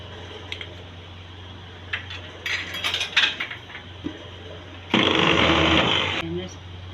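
A blender grinding moong lentils with onions and green chillies whirs loudly for a couple of seconds after scattered clinks and short bursts, with a voice talking around it.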